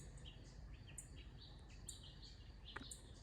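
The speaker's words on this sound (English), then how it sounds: "I hear a bird." A bird chirps in a backyard, several short high tweets in quick irregular bursts, faint and fairly distant over a low steady rumble of background noise.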